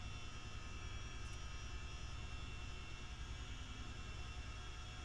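A simulated aircraft comes in to land in Microsoft Flight Simulator 2020, its engine giving a steady, dense broadband roar throughout, with no talk.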